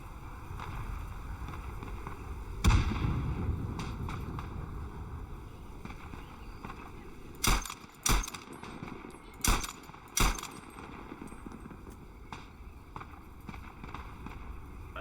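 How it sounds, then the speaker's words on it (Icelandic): A Madsen machine gun fires in the World War I shooter game Isonzo, with a handful of loud, sharp reports spread unevenly over steady background ambience. "Madsen helviti góð byssa"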